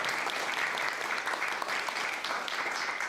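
An audience at a briefing on head injury research claps in steady applause, a dense even crackle of many hands at moderate volume, lasting about three seconds.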